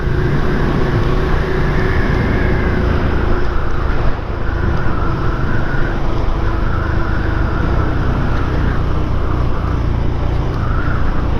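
Benelli Imperiale 400 motorcycle riding along a country road, a steady close engine drone with wind rush and faint shifts in pitch, no talking.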